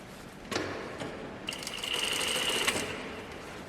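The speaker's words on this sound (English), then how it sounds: "because you are sewing on 2 pieces of fabric along a curved line" A sewing machine runs in a steady whirring burst, stitching two fabric pieces together along a curved line while a button-up shirt is assembled, with a few clicks and handling noises before the motor starts.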